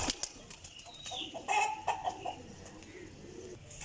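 Sialkoti and Teddy pigeons are handled up close, with brief wing flutters, rustling and a few soft coos and chirps over a low background hum.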